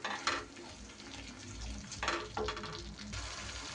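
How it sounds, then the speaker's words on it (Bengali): Coriander and cumin powder frying in a pan for a vegetarian jackfruit paneer curry, a soft steady sizzle with a few scraping stirs, close and quiet with no talk. "ছোট চামচের 1 চামচ করে ধনের গুঁড়ো আর জিরের গুঁড়ো দিয়ে দিলাম একই সাথে। এবার সুন্দর করে মশলা কিন্তু কষিয়ে নিতে হবে।"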